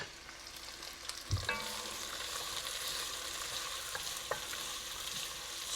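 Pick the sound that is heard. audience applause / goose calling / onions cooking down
onions cooking down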